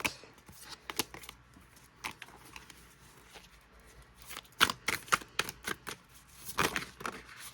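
Tarot cards shuffled by hand during a card reading, giving repeated crisp riffling bursts with short pauses, growing busier and louder toward the end, close and with no voice.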